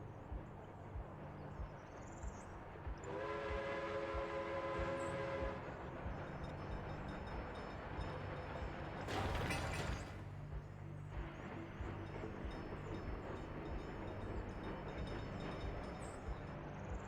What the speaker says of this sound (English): There's the covered hull carriages bringing the mechanical components.